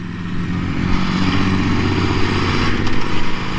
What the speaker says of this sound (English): this V4, man, when you're actually riding it and hearing it in person, it sounds badass